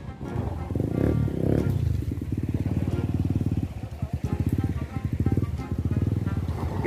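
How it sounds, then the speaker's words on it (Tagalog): A motorcycle engine runs close behind, giving a steady, loud mechanical drone throughout. Louder bursts come early on and again near the end, and people talk over it. "may motor din sa likod din."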